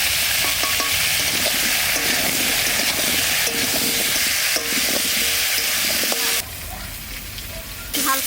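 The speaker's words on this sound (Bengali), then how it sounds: "হালকা কষে নিচ্ছি" Potatoes with salt and turmeric sauté in a hot pan, a loud constant sizzle with repeated scraping stirs. Near the end the sizzle briefly drops lower.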